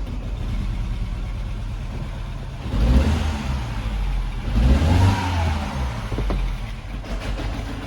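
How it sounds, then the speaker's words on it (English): A Mini's engine cranks and catches, then runs with an uneven, stumbling note from a cylinder misfire, steady and close with two louder surges as it revs. "I'm going to start the car."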